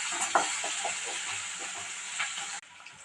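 Steady frying hiss with light scraping and stirring clicks as onion and curry leaves are sautéed in a pan for varagu rice upma, fairly close, cutting off sharply near the end.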